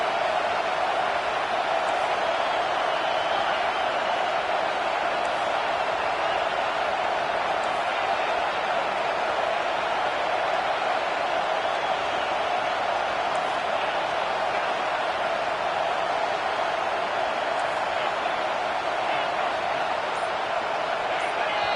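Stadium crowd noise in the NCAA Football 25 video game, a loud continuous roar of a packed college football crowd that holds steady throughout.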